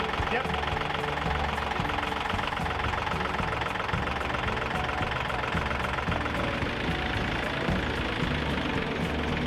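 A tractor engine runs steadily at a low idle while being used to move a large garden trellis into place, a continuous rumbling drone with faint knocking and no break across the clip.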